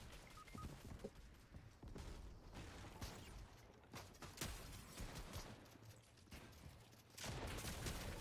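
Fortnite gunfire crackles in faint, rapid bursts of shots, mixed with mechanical clicks and clatter from the game, with no talk over it.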